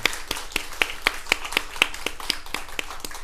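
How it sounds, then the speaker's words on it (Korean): A church congregation at a Sunday worship service claps in unison, sharp regular beats at a steady rhythm, close and clear with little else beneath. "먼저 단기 선교팀의 팀장이 되어주셨던 우리 하나님께 큰 박수로 영광을 돌리겠습니다"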